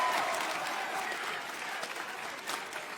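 A wrestling crowd cheers and applauds in an arena, a continuous dense wash of clapping and shouting at moderate distance with occasional louder surges.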